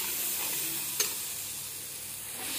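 Paneer frying in cooked masala in a pan, giving a steady, close hiss of sizzling with a single sharp clink partway through and no talk.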